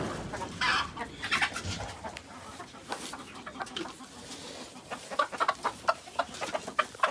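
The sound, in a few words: gamefowl chickens clucking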